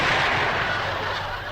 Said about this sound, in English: Jethro shot a fox